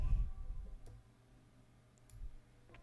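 A computer mouse clicks a few times while selecting areas in Photoshop, with faint, sparse, close clicks spaced out over a quiet background.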